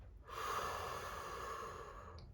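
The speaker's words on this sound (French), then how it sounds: "expires par la bouche" One slow exhalation out through the mouth, a soft airy breath held for about two seconds, quiet and close.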